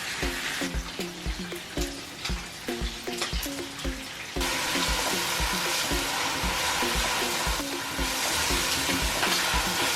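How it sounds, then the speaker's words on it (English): Steady sizzling of goat meat frying in a pan for jollof, with repeated scraping stirs early on, then a louder continuous crackle. "As the rest of the goat meat is frying"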